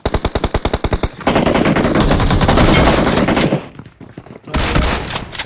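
Shotgun fire in the mobile battle game BGMI: loud, rapid, evenly spaced shots, then a dense continuous volley that breaks off briefly before a last burst. No voices.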